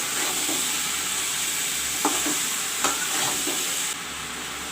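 Chopped tomatoes go into a pan for an aloo baingan curry and fry with a steady broadband sizzle, broken by a few short scraping stir clicks; the hiss drops slightly near the end, with no talk.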